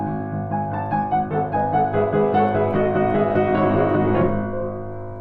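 A piano plays a passage from the third movement of Beethoven's Moonlight Sonata: a steady run of rapid, rippling notes over sustained bass, loud and close, swelling slightly before easing off at the end, with no voices.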